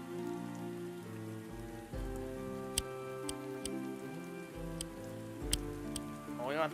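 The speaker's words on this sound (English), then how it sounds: "So it said it was already raining," Rain weather effect in the video game Wargroove patters steadily under sustained game music, with a few sharp ticking clicks scattered through and no voices.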